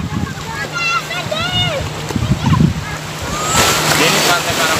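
Surf rolling onto the beach at Karangbolong (Pasir Putih), Nusakambangan, Cilacap, Indonesia, with wind buffeting the microphone, while someone talks over it and birds chirp faintly; the wash swells louder near the end.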